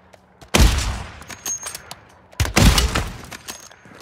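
Gunfire in the Warzone 3 video game comes in two loud bursts of rapid shots, each cracking sharply then trailing off, separated by a short lull.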